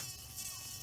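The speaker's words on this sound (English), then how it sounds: "Stupid mosquitoes." A mosquito whines close to the ear, a thin continuous high buzz that swells slightly and then holds, alone and fairly faint.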